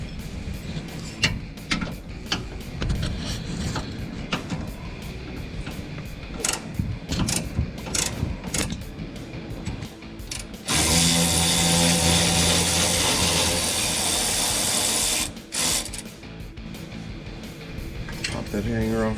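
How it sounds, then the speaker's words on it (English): A wrench, likely powered, spins a 15mm bolt out of an exhaust hanger on a 2019-2022 Silverado/Sierra 1500 5.3L, giving a loud, steady whirring burst of a few seconds amid shop noise, with someone talking before and after. "next we're going to remove this 15mm bolt, holds this hanger to the frame"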